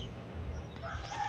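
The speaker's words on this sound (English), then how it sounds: "Tingog ang bird." A chicken-like bird gives a faint, distant crowing call over a steady low background hum, brief and heard alone without speech.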